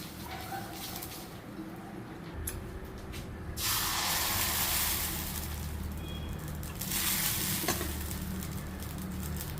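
Appam batter hisses and sizzles as it is poured into a hot pan and swirled around. The loud spraying sizzle surges twice over a constant background hum.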